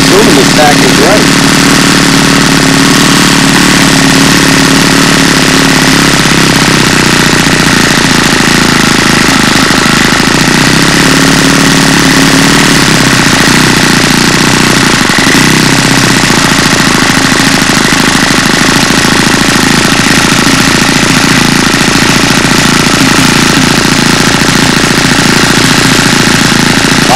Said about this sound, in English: Idling down under 500 RPM according to this pack.